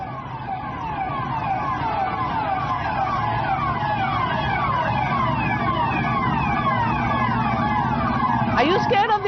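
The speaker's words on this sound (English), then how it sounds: "Listen into those sirens." Several police sirens wail together, their pitches sweeping up and down and overlapping, loud and continuous over traffic rumble, with a brief yelp near the end.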